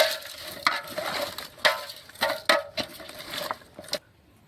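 Vegetables for village-style aviyal are stirred in a pot with water, turmeric and rock salt, giving a series of sharp scraping and clattering strokes at an uneven rhythm, close and fairly loud, ending in near silence.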